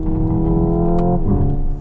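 A 2025 Hyundai IONIQ 5 N electric car drives past with a steady, layered tonal whine and a low rumble, holding strong and near throughout before easing off at the end.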